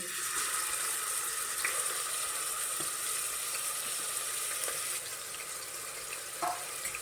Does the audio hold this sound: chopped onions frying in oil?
yes